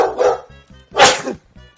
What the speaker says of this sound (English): Yeah, the dog is flipping out.